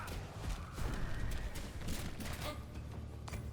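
Horse whinnies and hoofbeats from the game Conquest Dark, with a loud neigh early on and clopping steps mixed among busy game effects, fairly close and steady throughout.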